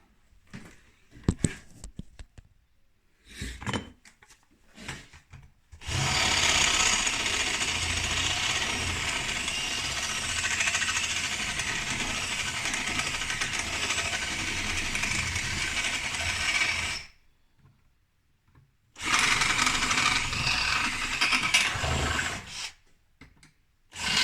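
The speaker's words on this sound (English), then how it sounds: "Get your drill and drill them out." A power drill whines steadily for about ten seconds drilling out pop rivets on a VW Mk1 Caddy window mechanism, stops, then runs again in a shorter burst, with scattered clicks and handling noises before and after.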